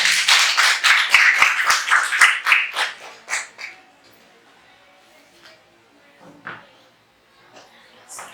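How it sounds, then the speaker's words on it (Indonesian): A classroom of students claps together, quick and loud for about three seconds, then fades into a few scattered claps and small bumps. "Tepuk tangan untuk Bapak."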